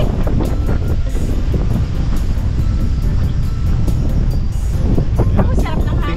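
Strong wind buffets the microphone at a windmill farm overlook in Pililla, Rizal, a steady loud roar with gusty rumble throughout.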